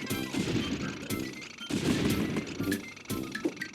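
Tank in the Wii Tanks video game firing a spray of bullets, rapid bursts of sharp shots and impacts in three clusters with short gaps between them, fairly loud, no voices.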